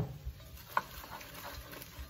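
Onion sizzling in a hot pan at the start of a pea soup, a faint, steady crackle with a light stir or clink now and then and no talk.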